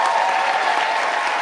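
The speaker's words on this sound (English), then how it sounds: "let's give one big hand to our awesome students here" A concert audience applauds students after an intermediate school chorus performance, a loud, dense, steady burst of many hands clapping close by.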